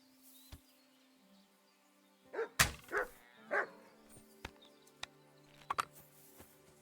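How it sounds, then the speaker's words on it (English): A dog barks in the medieval game Kingdom Come Deliverance 2, a run of three or four sharp barks in quick succession mid-clip, with scattered clicks and thuds around them against a quiet, humming background. "I wonder if the dog's gonna get it."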